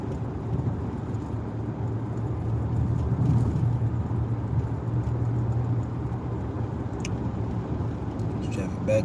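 Backed-up road traffic heard from inside a moving car, with a steady, broad low engine and road rumble throughout and a few faint clicks near the end.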